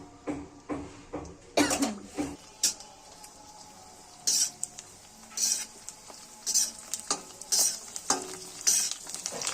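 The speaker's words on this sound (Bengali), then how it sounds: "এই যে ফুচকাগুলো ভাজছি এখন আমরা খাওয়ার জন্য" Fuchka shells are fried in hot oil at home, with a low sizzle beneath repeated sharp bursts of crackling as each batch is stirred and turned, alongside scattered utensil clicks.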